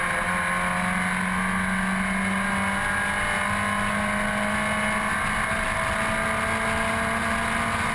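Vintage MGB race cars race at Grattan Raceway, with steady, loud engine drone and sustained high revving throughout and no pause in the sound.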